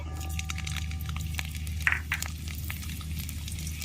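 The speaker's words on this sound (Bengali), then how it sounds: "তেল গরম হয়ে গেছে আমি রসুন দিয়ে দিচ্ছি তেলের মধ্যে" Garlic dropped into hot oil in a wok, a steady close sizzle with a soft crackle over a low hum, no one talking.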